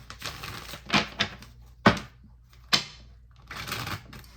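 Tarot cards are shuffled and drawn in a series of crisp riffling bursts and sharp slaps, close and quiet, with short pauses between them and no talk.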